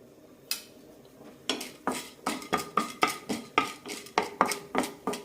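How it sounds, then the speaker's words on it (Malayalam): Urad dal and chana dal frying in oil in a pan, heard as a run of sharp rhythmic clinks and scrapes of a spoon against the metal, close and fairly loud. "ഇനി ഇതേ എണ്ണയിലേക്ക് ബാക്കിയുള്ള ചേരുവകൾ വറുത്തെടുക്കാം ഓരോ ടീസ്പൂൺ വീതം ഉഴുന്നും കടലപ്പരിപ്പും"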